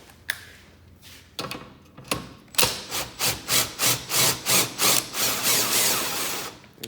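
A caravan leg being wound down with a 19mm socket on a power tool, a few sharp clicks followed by a rapid run of loud, rhythmic grinding pulses close by, with no talk.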